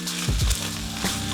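Sizzling garlic fried rice stirred in a hot pan, with a couple of scraping strokes of the utensil over a constant frying hiss, close up and without talk.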